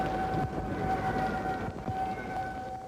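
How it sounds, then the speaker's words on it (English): Tornado warning sirens wail across downtown Indianapolis, a loud sustained steady tone holding over a low background rumble. "The sirens blared in downtown Indianapolis"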